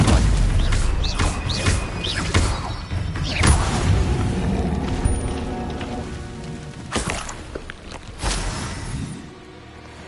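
Spell combat in Hogwarts Legacy, a loud booming impact with crashing and crackling debris, followed by scattered thuds and rattling bursts that fade toward the end, with no speech.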